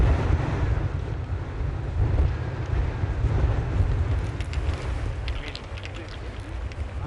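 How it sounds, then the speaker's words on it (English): Strong wind, around 30 mph, buffets the microphone on a golf course at the Abu Dhabi tournament, making a constant low roar, with a commentator talking over it. "Wind off the right for Poulter."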